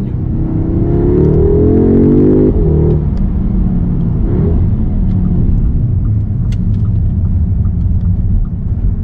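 Audi S3 car accelerating hard, a loud close engine note climbing in pitch through a gear before settling into a steady rumbling whir of road and engine noise, with faint ticks scattered over it.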